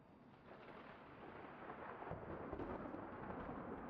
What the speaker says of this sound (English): a storm front comes through